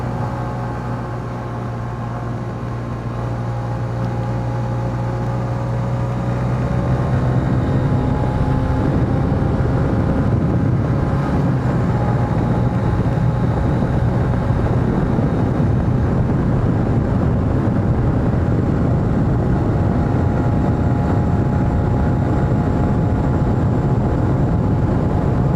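Riding a 2023 Honda CB125F motorcycle with a modified airbox: a steady engine drone and wind rush under way, with the pitch gradually shifting upward as the bike accelerates, with no talk.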